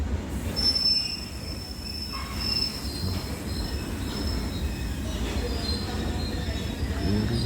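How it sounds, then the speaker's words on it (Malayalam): A train rolls along the rails with a steady low rumble and thin, high wheel squeals drawn out over it. "ട്രെയിൻ വരാറായിരുന്നു വരൂ ട്രെയിൻ"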